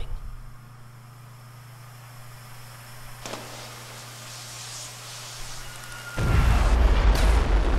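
Artillery fires in Fallout 4: a steady low hum and soft rumble build for several seconds, then a sudden loud, roaring blast takes over at the end.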